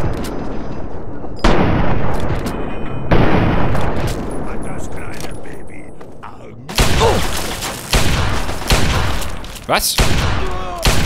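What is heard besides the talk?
Magnum revolver firing rapidly in Fallout 3 (video game)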